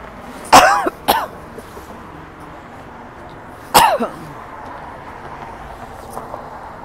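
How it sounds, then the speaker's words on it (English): Two sharp coughs close together, then a pause and a third cough, over steady low background rumble. "you just have a lot to cough up"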